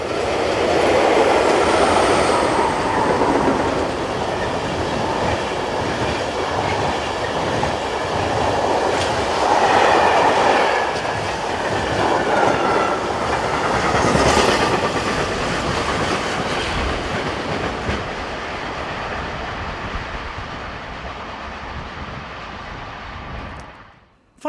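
A train passes, hauled by two electric locomotives with two Class 843 diesel locomotives in tow, heading north on a European line. Loud steady rumble with rhythmic wheel clatter and a faint squeal, fading out at the end.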